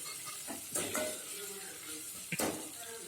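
Mustard seeds, cumin, green chillies and chopped onions fry in oil in a kadai, a soft sizzle broken by a few clanks and scrapes of a spoon against the pan, fairly quiet with no talking.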